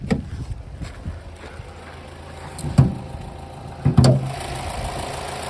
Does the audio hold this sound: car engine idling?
yes